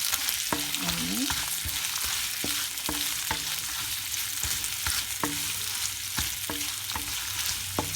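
Garlic and onion sautéing in a pan for a kangkong stir-fry, a constant close sizzle broken by sharp spatula scrapes and taps against the pan.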